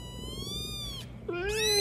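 A cat meows for a treat in two drawn-out calls, the second rising and louder, close up with a faint room hum beneath.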